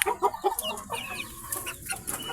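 Chicks peep in quick high chirps while being given medicine, close and busy, with overlapping calls and some clucking-like notes from the birds throughout.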